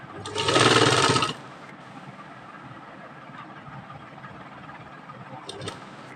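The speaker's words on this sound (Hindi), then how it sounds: "बाकी उसके बॉर्डर पर हमें सिलाई लगा देनी है।" Electric sewing machine stitching lace onto a dupatta border: one loud, close whirring burst of about a second near the start, then a quiet room with faint background noise.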